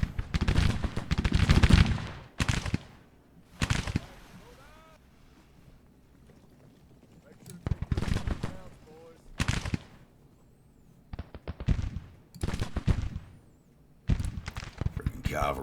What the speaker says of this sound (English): Those damn Sharps rifles.